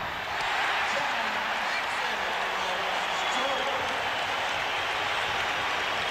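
A basketball arena crowd roars during the 1991 Knicks at Bulls playoff game in Chicago, a dense, loud, sustained wash of cheering and applause with a commentator's voice faintly beneath.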